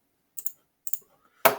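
Crisp computer mouse clicks: two quick double-clicks spaced about half a second apart, then a louder, sharper click, close and isolated against near silence.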